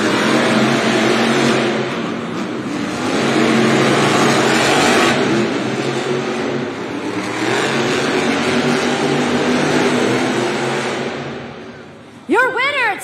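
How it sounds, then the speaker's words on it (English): Monster trucks firing up in an indoor arena at a Monster Jam event, engines roaring and revving loudly in long surging waves, with crowd and arena noise and a brief sharp rising tone near the end. "Trucks are fired up."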